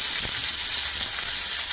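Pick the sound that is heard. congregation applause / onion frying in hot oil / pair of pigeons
onion frying in hot oil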